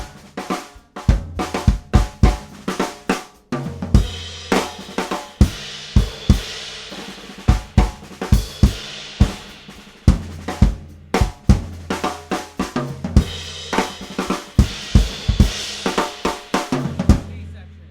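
Drum solo A sections played on a drum kit, with a steady stream of sharp hits, cymbal wash and low thumps in a repeating rhythmic pattern, heard clearly with no talking.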